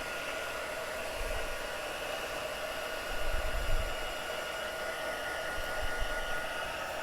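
A heat tool blows hot air to dry a card, giving a steady, quiet hiss with a slight surge partway through and no talking.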